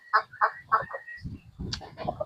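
Chickens roaming loose around a small farm give a few sharp, evenly spaced calls, then a burst of lower, overlapping clucking and squawks close by.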